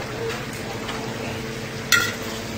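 Olive lechon fries in a pan, a soft steady sizzle with a short louder burst near the end.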